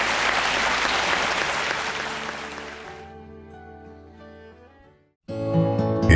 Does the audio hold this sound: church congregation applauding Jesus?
yes